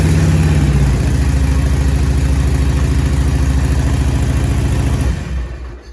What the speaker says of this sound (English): I'll give you a little kind of sneak peek of what this exhaust sounds like.